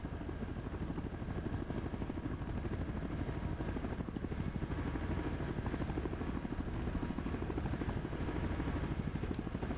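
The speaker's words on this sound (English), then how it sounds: "Yeah, I hear helos." Helicopters approach in a military operation, a steady, loud rotor thrum and engine drone that holds without a break through the whole stretch, with no talk over it.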